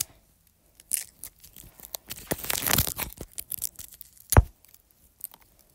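A Polo mint packet wrapper is torn open up close, with quiet crinkling and tearing rustles building to a louder rip, then a sharp snap and a few faint crackles.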